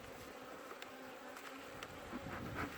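Honey bees buzz steadily around an opened hive box being prepared for winter, a dense, continuous hum at close range that swells slightly toward the end, with no talking.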